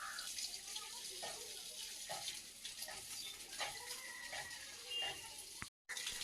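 A garden hose sprays water onto plants in a garden with a continuous loud hiss and splash that runs steadily throughout and cuts out briefly near the end.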